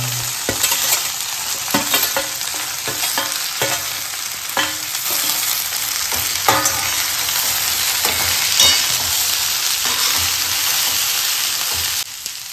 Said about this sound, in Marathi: जेवढी भेंडी घेतली आहे सगळी टाकायची आहे आणि त्याला मिक्स करून घ्यायचं आहे आपल्याला